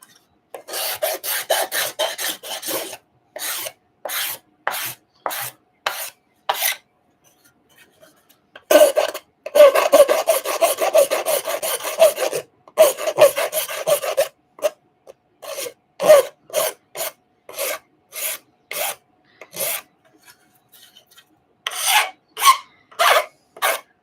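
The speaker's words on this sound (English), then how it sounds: "Then again, the deburring tool would probably be the go." A deburring tool scraping along a metal edge in a workshop, with bursts of short rhythmic rasping strokes, some rapid runs and some spaced apart, close and fairly loud with silent gaps between.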